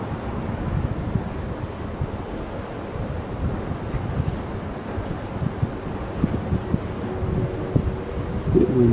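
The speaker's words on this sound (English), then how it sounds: "It's a bit windy." Wind gusts outdoors, buffeting the microphone with a steady low rumbling roar that swells and dips throughout, close and fairly loud, with no clear talk over it.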